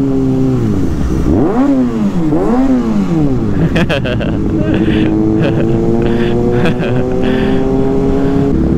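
A Kawasaki Ninja ZX6R motorcycle in traffic, its engine loud and close, blipping through several sharp revs that rise and fall before settling into a steady high idle drone.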